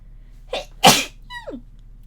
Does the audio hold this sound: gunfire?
no